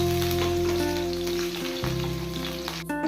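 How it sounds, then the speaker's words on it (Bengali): Pieces of potato and eggplant frying in hot oil give off a bright, continuous sizzle, with steady tonal hums in the background and a stirring shuffle near the end. "তেল গরম হয়ে গেছে, এবার আলু আর বেগুনের টুকরোগুলো ভেজে নেব।"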